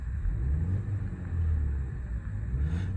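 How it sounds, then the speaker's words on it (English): A 2011 Audi A5 Sportback with a 2.0 TFSI 180PS engine and newly fitted clutch, running in a steady low, quiet rumble heard close up, with no other sounds. "I'll give it a rev."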